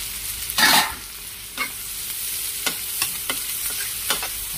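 Ginger, galangal, bay leaves and lime leaves sautéing for rendang: a soft steady sizzle broken by a louder stir near the start and several short scraping strokes of a spatula against the pan.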